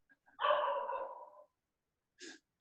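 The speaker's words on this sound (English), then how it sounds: "I can hear a dog." A dog giving one drawn-out, whining bark or howl, faint and somewhat distant, followed by a short yip a moment later in otherwise near silence.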